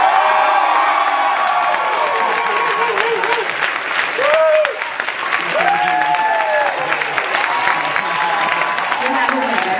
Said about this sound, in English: Applause for Zakhar